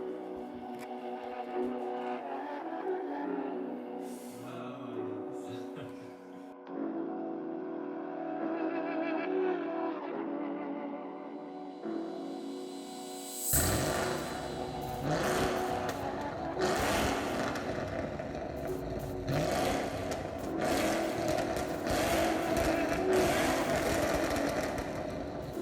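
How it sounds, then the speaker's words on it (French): After a quiet start with low hum, a car engine roars in and revs hard, loud and rising in repeated surges until the end. "un bruit de moteur"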